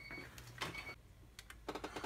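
Coolant whirring and gurgling through the engine of a Honda CB7 build as the ignition key is turned to position two during a fuel-leak check, with a few sharp mechanical clicks and ticks at close range.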